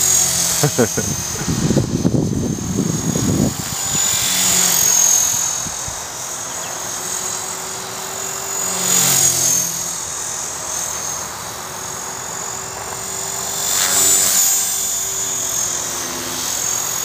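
An EXI450 radio-controlled model helicopter flies with a continuous high whine that swells and fades as it moves about, with louder close rustling bursts near the start.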